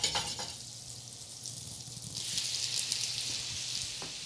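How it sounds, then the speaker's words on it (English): Shrimp hit a hot frying pan and sizzle as a steady, close hiss that swells louder midway and keeps crackling, with no voices. "Listen to that sizzle."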